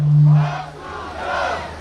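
A crowd at a market-day election rally in Buyeo loudly chants the candidate's name in unison, a swelling collective shout that rises twice in quick succession.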